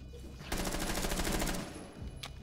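Rapid gunfire from a Rainbow Six Siege-style shooter featuring Glaz's sniper: a loud burst of fast, evenly spaced shots for about a second, trailing off, followed by a sharp single crack.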